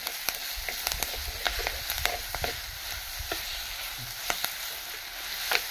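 Greens sauté in a pan for chutney, a steady moderate sizzle with sharp intermittent clicks and scrapes from stirring, heard up close.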